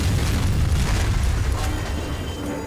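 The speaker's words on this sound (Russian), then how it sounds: "А вот взрыв это уже плохо." A video game explosion in Max Payne 3: a loud, sustained low rumbling boom that fills the whole stretch, with mechanical rattling mixed in and no voices.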